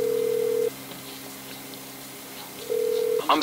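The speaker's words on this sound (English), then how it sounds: "So first off, you want to phone a taxi." Phone tones from dialing a taxi in the video game Grand Theft Auto 5: a steady electronic tone, a long pause over faint background hum, then the tone again, ending in a brief click.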